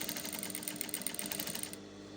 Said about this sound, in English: I'm just top stitching